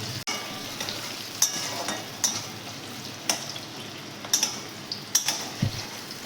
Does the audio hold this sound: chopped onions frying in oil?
yes